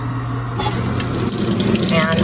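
Water runs steadily into a top-loading washing machine with its lid open as it fills for a tie-dye rinse, a continuous close rushing and splashing that rises slightly toward the end.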